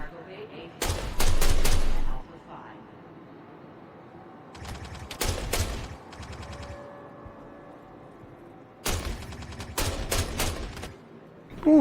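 Gunfire in the space game Star Citizen, short rapid bursts of automatic fire separated by quiet pauses, several sharp clustered volleys that come close and loud, with a speaker's voice talking in the gaps.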